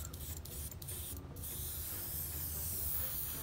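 Evolution airbrush with a 0.2 mm needle nozzle spraying aluminum metallic paint, a steady close hiss broken by a few short gaps early on, then continuous, with no speech.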